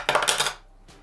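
A metal Amex Platinum credit card drops onto a hard surface, giving a bright, ringing metallic clatter with a few quick bounces that fades within about half a second, then a faint soft tap.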